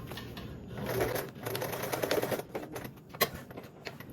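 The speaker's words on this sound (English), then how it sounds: "So just doing another row of stitches within that seam allowance." A sewing machine runs a row of reinforcing stitches within the seam allowance on a D-ring tab of a small bag, a steady close mechanical whirr with a brief sharp knock near the end.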